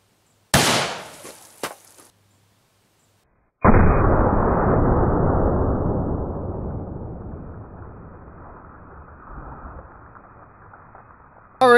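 A Mosin rifle firing Russian steel-core 1970s ball ammo into a row of milk jugs: one sharp, loud report with a quick echo, then after a pause a second heavy blast whose rumble slowly fades over several seconds.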